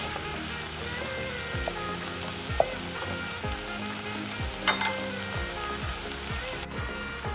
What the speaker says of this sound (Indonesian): Aduk hingga daging berubah warna.